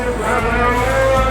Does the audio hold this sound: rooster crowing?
no